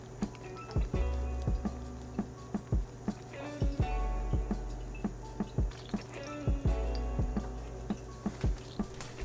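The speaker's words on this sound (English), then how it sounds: "Now add a couple teaspoons of water along the sides of the pan, then cover and cook for 2 minutes." Water poured around Japanese souffle pancakes in a hot covered pan, giving repeated sharp sizzling drips and spatters over a steady low hiss for several seconds, with no talking.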